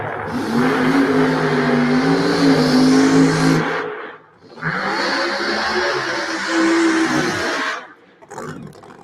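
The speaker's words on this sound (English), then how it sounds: "We have got the first pair of funny cars fired up." A pair of funny car drag racing engines roar at Byron Dragway during Saturday qualifying. Two long, loud, harsh revving blasts are split by a brief drop, and a short burst trails at the end.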